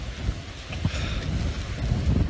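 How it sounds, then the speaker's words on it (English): Strong wind roars and buffets steadily near a mountain summit during a storm, a dense low rumble with gusts and no voices. "It's just windy."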